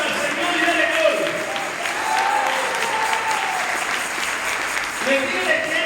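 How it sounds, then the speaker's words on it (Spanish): A church congregation claps in praise during a Spanish-language sermon, a sustained rhythmic wash of many hands, with voices calling out faintly beneath the clapping. "Dele las palmas al Señor y dele gloria."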